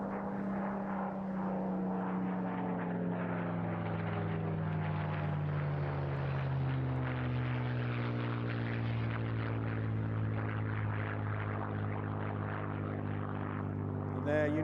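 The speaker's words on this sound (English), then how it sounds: "This aircraft fitted with the original Rolls-Royce Merlin 63, the only one of its type flying in the world today." A Mark 9 Spitfire with its original Rolls-Royce Merlin 63 engine flying away at an airshow, a steady, loud propeller-engine drone with a gradual pitch drop as it recedes, heard alone without talk.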